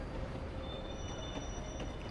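A train rolls along in the railway video game Railgrade, a steady dense rumble with faint high squealing tones and no talking.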